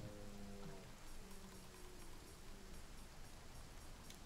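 Rain at night in Monster Hunter World, a dense, even hiss of falling drops over a low tone that fades out early on, steady and close with no voices.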